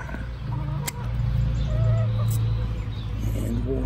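Chickens cluck and murmur softly nearby over a low steady hum, with a few brief higher calls.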